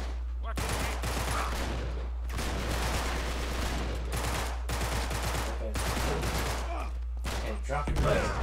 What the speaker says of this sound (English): it's a machine pistol